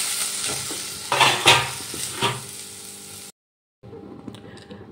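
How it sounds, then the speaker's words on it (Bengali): Potatoes frying in a pan, a loud close sizzle with bursts of stirring and scraping, then a brief silence before softer frying resumes. "এবার আলুগুলো ভেজে নেব।"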